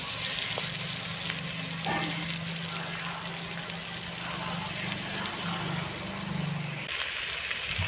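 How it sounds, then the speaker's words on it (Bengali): Chopped onions frying with salt in a pan for a country chicken curry, a loud, continuous close sizzle with bubbling and occasional stirring scrapes throughout; nobody speaks. "পেঁয়াজ কুচি দিয়ে পেঁয়াজটা হালকা ভেজে নেব, লাল লাল করে ভাজবো না পেঁয়াজটা।"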